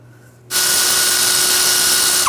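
A power tool, likely an impact or socket driver, spins up abruptly and runs loud and steady while removing brake caliper bolts from a 2000-2006 BMW X5, winding down at the very end.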